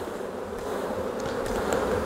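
Honey bees buzz steadily on a brood frame lifted from a hive during a disease and wax moth inspection, a close, continuous drone with a few brief higher whines of individual bees flying past.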